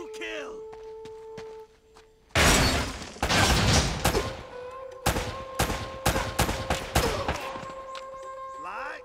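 Rapid bursts of gunfire from the Uncharted: Drake's Fortune video game, a loud barrage of close shots with sharp repeated cracks, preceded by quieter footsteps and ambient game sound, with no talk over it.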